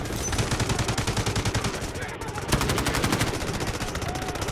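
Rapid automatic gunfire in the Delta Force Mobile shooter game rattles in dense, continuous bursts, loud and close, with a short pause midway before the firing resumes.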